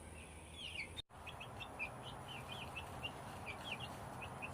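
Chickens and little chicks peep and chirp in quick, high, overlapping calls against a steady background hum, close and fairly soft, with a brief dropout partway through.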